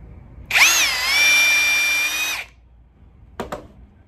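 Brushless cordless drill motor spinning freely with a steady high whine for about two seconds, rising quickly and then cutting off, followed by a brief second burst of sound.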